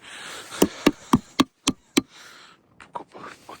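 Someone knocks on an old piece of scrap iron, likely an old door lock, with six sharp, evenly spaced raps followed by a few lighter, quieter taps close to the mic.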